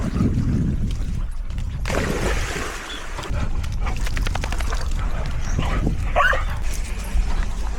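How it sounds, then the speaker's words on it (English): Dogs playing outdoors yip, whimper and give short barks amid rustling and movement, fairly close, with a steady outdoor background throughout. "I'm going to show you the dogs, let you enjoy them having a great time"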